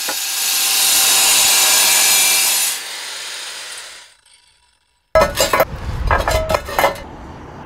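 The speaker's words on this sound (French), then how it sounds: "À l'aide d'une meuleuse d'angle, chanfreine les arrondis directement sous la découpe de fenêtre." An angle grinder cutting roof tiles: a loud, harsh grinding whine cuts steadily for a few seconds, then trails off into silence, followed by close scraping and clattering of hard material.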